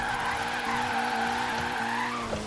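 A Ford Focus RS converted to rear-wheel drive slides sideways in Forza Horizon 3, its tires screeching steadily over a droning, held engine note throughout.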